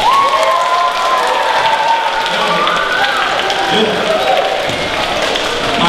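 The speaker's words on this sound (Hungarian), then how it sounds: "Tapsoljátok meg az anyját!" An audience applauds during a local Hungarian television broadcast from Kistelek, with dense, steady clapping that carries on throughout while voices and tonal sounds run over it.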